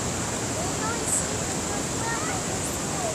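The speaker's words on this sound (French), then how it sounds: "Les vagues." Ocean waves wash steadily below a lookout at Kélonia on Réunion, a constant rushing surf that stays even in level with no clear breaks and no voices.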